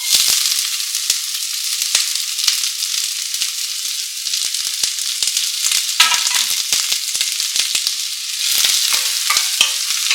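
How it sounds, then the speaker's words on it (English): Chopped onion sizzling in hot ghee in a pot, a loud, steady crackling fry close up with occasional spatters and stirring clicks throughout. "fry this onion in here and like maybe like around like 8 minutes"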